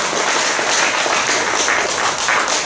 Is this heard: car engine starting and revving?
no